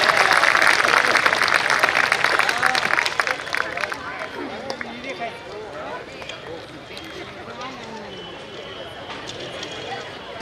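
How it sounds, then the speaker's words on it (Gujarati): An audience at a community get-together bursts into loud applause after a stage performance, the clapping fading over a few seconds into quieter crowd murmur and speech. "પરફોર્મન્સ આટલું સુંદર હોય તો પ્રકાશભાઈ માટે વધારે તાળીઓ જોઈએ"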